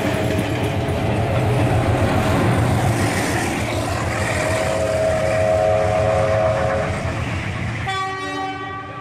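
Toy or model Blue Zephyr train running in a train race, a steady close rumble with rhythmic clatter and tonal whining throughout, ending in a burst of bright, whistle-like harmonic tones.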